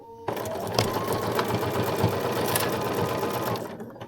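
A sewing machine runs steadily as it stitches a seam on a fabric bowl cozy, a close continuous whirring hum with a fast mechanical rhythm that starts abruptly and stops near the end.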